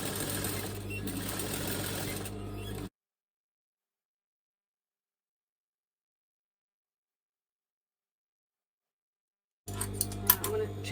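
Overlocker sewing machine stitching and finishing the hems of a handmade top, a steady loud whirring run that stops abruptly after about three seconds, then starts again near the end.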